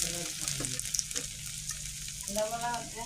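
Ginger fries in hot oil with mustard seeds in a pan, a steady soft sizzle with faint crackles and stirring, close by, while someone speaks briefly over it.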